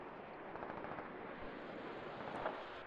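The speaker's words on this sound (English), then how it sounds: "Now we got mortars coming in." Incoming mortar fire in the game Squad: a continuous rumbling barrage of distant explosions and gunfire, dense and steady throughout with a slightly louder burst near the end.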